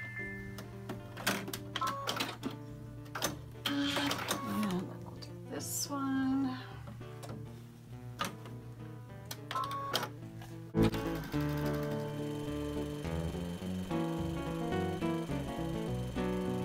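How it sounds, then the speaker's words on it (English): A sewing machine stitches a triple stitch zigzag, its needle rattling in quick uneven bursts for several seconds, then running as a steadier close mechanical chatter, with occasional clicks and no talking. "Sometimes I serge them, sometimes I triple stitch them. I love this little"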